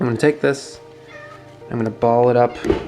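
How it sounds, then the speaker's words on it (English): A house cat meows a few times between stretches of indoor speech, the calls close and fairly loud, with a person talking over and around them. "That's my cat."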